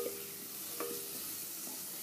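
A tomato paste gravy for paneer pasanda cooks in a pan, giving a steady close hiss of simmering with a couple of faint stirring taps.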